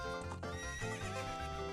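A horse in The Legend of Zelda: Ocarina of Time whinnies loudly and close up, a drawn-out neigh with a clip-clop of hooves blended in.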